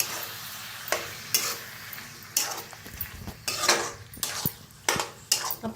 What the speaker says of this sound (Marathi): छान मिक्स करून भाजून घेऊया